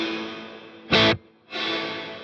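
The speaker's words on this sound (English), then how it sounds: "If I turn that up full to 500 milliseconds" An electric guitar through a Boss Katana amp with modulated reverb set to a 500 ms pre-delay: a short, bright burst of chord, a brief gap, then a long, wide reverb wash swelling back in and sustaining.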